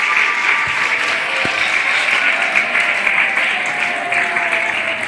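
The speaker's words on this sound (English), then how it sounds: "Let's all clap for him." Audience at a grade six graduation ceremony claps for an honoured pupil, a broad, steady wash of applause with a few whistles and cheers rising over it.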